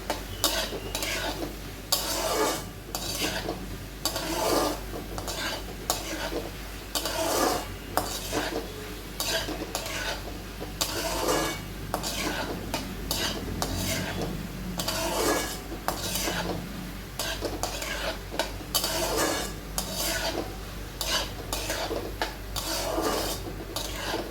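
Onion and tomato sautéing in oil for a prawn masala, a spoon stirring and scraping the pan in frequent rhythmic strokes over a gentle, continuous sizzle, close up with no talk.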